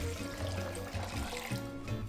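About two seconds of water trickling and splashing as two cups are poured into a blender that already holds soaked cashews. The sound is close and fairly soft, with no one speaking.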